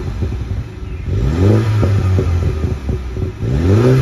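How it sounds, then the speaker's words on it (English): A Mini 2.0 John Cooper Works engine in sport mode revs repeatedly with rising, throaty blips, close and loud, separated by brief dips back toward idle. "You can have a quick listen, does sound quite roarty."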